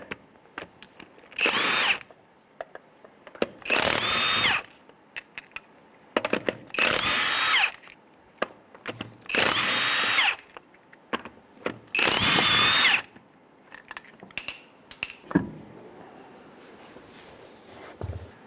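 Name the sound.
power tool removing wheel lug nuts with 19mm socket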